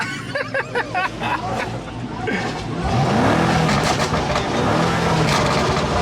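Voices chatter in the foreground at a car meet while a car engine revs up, its pitch climbing and falling through a couple of throttle bursts.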